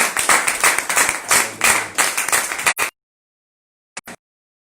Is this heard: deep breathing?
no